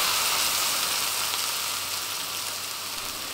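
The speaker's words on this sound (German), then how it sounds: "Die Champignons in der Pfanne nun anbraten und ein bisschen Farbe ziehen lassen." Champignon mushrooms browning in a pan give off a dense, steady sizzle that holds close and even for a few seconds, easing slightly toward the end, with no talking.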